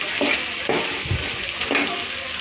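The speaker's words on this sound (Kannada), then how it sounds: "ಇವಾಗ ನೋಡಿ ಈರುಳ್ಳಿ ಫ್ರೈ ಆಗ್ತಾ ಇದೆಯಲ್ಲ" Onions frying and being stirred in a pan while cooking tomato gojju, a close, steady sizzle broken by a few scraping stirs, with no voices.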